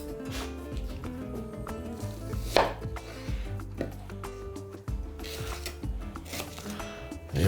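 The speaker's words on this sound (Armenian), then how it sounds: "Երկու գլուխ սոխ կտրատում ենք փետրաձև" Two onions being sliced into thin feather-shaped strips, with uneven knife knocks on a board and clattering kitchen noise throughout.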